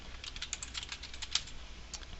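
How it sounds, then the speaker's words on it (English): Someone types on a slightly sticking computer keyboard, tapping a quick, uneven run of key presses, close and fairly quiet, with no talking over it. "I'm just hitting the right arrow keys to go over here"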